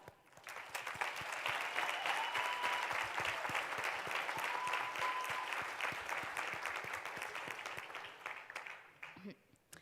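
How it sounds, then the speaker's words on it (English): A ceremony audience applauds Fran at a hospitality school closing event, sustained dense clapping that swells quickly and holds before tapering off at the end. "Let's applaud Fran."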